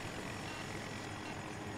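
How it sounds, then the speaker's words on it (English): Attack helicopter in the video game Battlefield 2042, its rotor and engine drone holding steady and continuous through the moment with no talk. "There's a attack helicopter."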